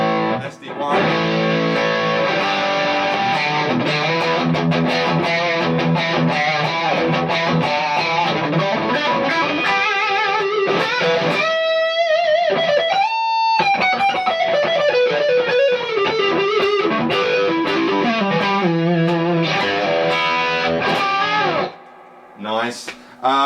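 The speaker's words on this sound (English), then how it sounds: "so this is just the overdrive of the Dwayne." Electric guitar played through the overdrive channel of a Dwayne amp, a distorted, sustained tone with chords and single-note bends filling most of the stretch, loud and continuous before stopping briefly near the end.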